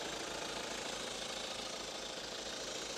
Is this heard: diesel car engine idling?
yes